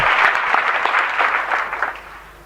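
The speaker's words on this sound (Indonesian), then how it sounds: "Tepuk tangan buat Tuhan." A church congregation claps together in a dense burst of applause, loud and close, tapering off slightly toward the end.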